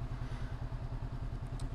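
Honda CB 500 X motorcycle engine running steadily with a low, even pulsing throb, heard close and continuous without talk.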